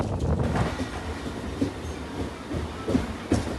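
A MEMU commuter train runs on the Panvel to Pen line, giving a steady, moderately loud rumble from on board with a few faint rail clacks and no talking.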